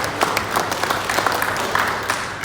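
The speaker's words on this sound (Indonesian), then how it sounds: "Tepuk tangan buat seluruh" An audience at a PWI Pelalawan journalists' association board inauguration ceremony in Indonesia claps together, a dense patter of many hands with brief louder bursts, fairly close and steady.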